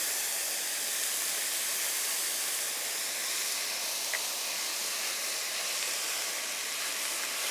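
Garlic sizzling in a pan with onions and green pepper, a steady, even hiss that stays level and fairly loud throughout, with no talking.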